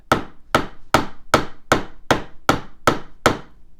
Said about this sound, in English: I'm going to attempt to hammer this fret